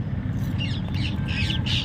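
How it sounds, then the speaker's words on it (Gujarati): Parrots squawk in the evening around a village, several harsh, raspy calls coming in quick bursts above a steady low background rumble, with no voices. "જુઓ કેવા બોલે પોપટ આ બાજુ ઘણા પોપટા થઈ ગયા"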